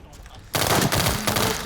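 Low chatter gives way to a sudden burst of loud, rapid pistol gunfire in the video game World War 3, shots overlapping in a dense volley near the listener.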